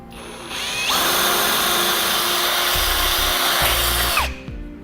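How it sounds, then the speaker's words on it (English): A power drill whirs steadily for a few seconds boring a 1/4 inch pilot hole while fitting a base plate kit to a 2007 Jeep Liberty, spinning up, biting in, winding down with brief pitch dips, close and loud. "Now I'm going to be drilling a 1/4 inch hole to start with to give myself a pilot hole"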